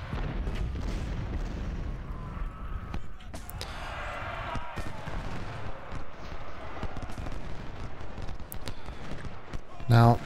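Civil War infantry charge in the Ultimate General strategy game, with dense volleys of musket fire crackling in rapid irregular bursts and popping close and far under a steady battle din, while someone talks over it.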